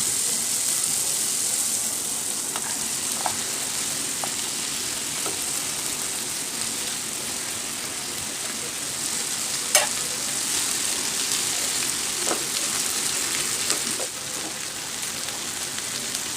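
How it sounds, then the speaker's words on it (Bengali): Fried potato pieces and pointed gourd being stirred in a frying pan, a steady soft sizzle with occasional light clicks and scrapes of the utensil, close and without talk. "আলু দিয়ে আমি ভালো করে নেড়ে চেড়ে নেবো। দেখেন আলুটা কিন্তু আমি ভালো করে ভেজে নিয়েছি।"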